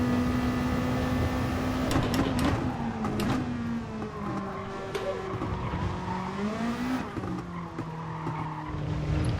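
A Japanese GT race car in Gran Turismo Sport oversteers with sustained tire squeal over a droning engine whose pitch rises and falls, close and steady, with faint talk underneath.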